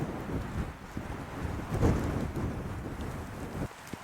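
Strong wind roaring across a frozen lake during an afternoon of ice fishing, a steady buffeting rush hitting the microphone with louder gusts in the middle.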